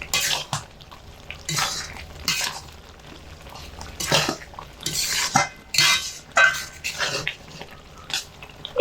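A spoon stirs dried jujube pickle in a pan over a low flame, giving a string of short, close scraping clatters in an irregular rhythm with brief pauses, with no talk over it.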